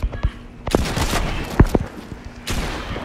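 Rapid gunfire in a shooting video game, bursts of close, sharp shots with short pauses and some footsteps between them.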